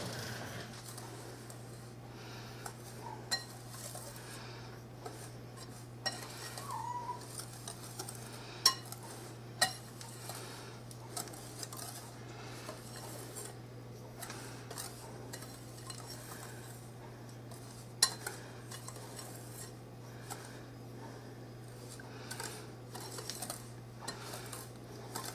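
Cake ingredients for a grandmother's cake are stirred together in a bowl, giving soft, steady scraping with scattered light utensil clinks against the bowl over a constant low hum, with no talking.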